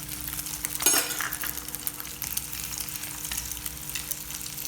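Egg omelette frying in a pan on a stove, a steady soft sizzle with a brief clink near the start, close and continuous.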